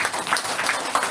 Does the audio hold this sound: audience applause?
yes